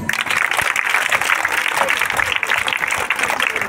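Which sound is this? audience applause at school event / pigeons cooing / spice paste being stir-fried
audience applause at school event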